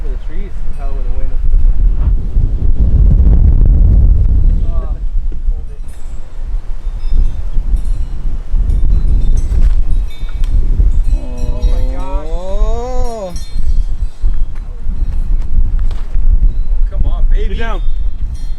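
Strong gusting wind buffets the microphone on a disc golf course during a wind advisory, a loud low roar almost throughout, while players talk and shout over it.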